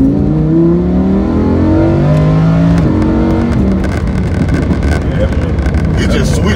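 Lamborghini Huracan engine in sport mode, a loud, continuous drone that rises and falls as it revs, with wind buffeting the microphone and people talking over it.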